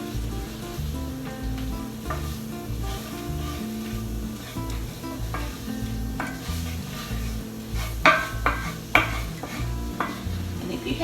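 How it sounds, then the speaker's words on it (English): Plain all-purpose flour and onions cook in butter in a pan with a low sizzle, under repeated scraping and clinking strokes of a stirring utensil that get sharper near the end. "Just let it coat those onions."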